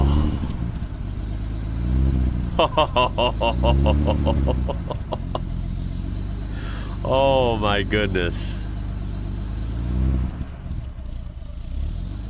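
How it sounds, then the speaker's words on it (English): A Mercedes 300 SL Gullwing's six-cylinder engine revs up and down in several loud bursts, rising and falling in pitch, with a person talking excitedly between the revs. "Oh, that sounds so good. It's got to be a 6-cylinder, right?"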